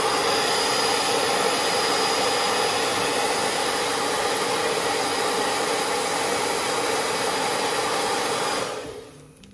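A hair dryer-like blower pushes cool air over tacky varnish on artwork, making a steady, loud, close whoosh with no talking that runs unchanged for about nine seconds, then switches off and fades at the end.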